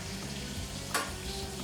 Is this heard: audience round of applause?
no